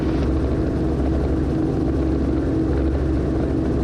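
A training helicopter from Heartland Helicopters, operating near gross weight, runs with a steady, loud rotor and engine drone close by, unbroken and without talk for the full few seconds.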